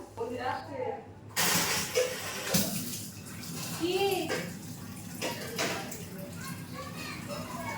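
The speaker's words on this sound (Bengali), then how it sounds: "এদিকে পাম্প চালিয়েছে, জলটা চটপট করে ভরে নিতে হবে।" A water pump runs and fills a container. A steady rushing hiss of flowing water continues throughout, with a sudden loud splash early on and faint voices in the background.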